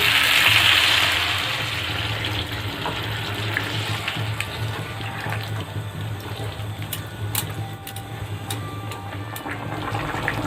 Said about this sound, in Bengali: এরপর দিয়ে দেবো পরিমাণ মতো জল।